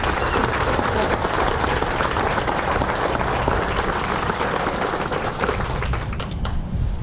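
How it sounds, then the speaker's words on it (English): Large audience applause at the groundbreaking ceremony for a new downtown arena in Mobile, Alabama, honoring two mayors: sustained, dense clapping that fills the whole stretch at steady loudness and thins slightly near the end. "let's give them a big round of applause for what they've"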